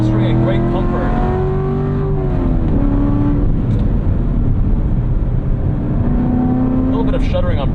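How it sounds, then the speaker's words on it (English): 2016 Corvette C7 Z51 V8 engine rev-matching on downshifts under braking, steady loud cabin engine drone with pitch rises and falls, under continuous talk. "There's our auto rev match."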